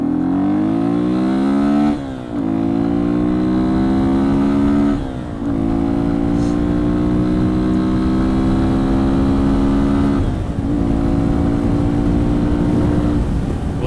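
Yamaha XT225 motorcycle engine droning steadily at road speed in fifth gear, rising in pitch as it accelerates, with two brief dips for gear or throttle changes; loud and close, with wind noise underneath and no talk.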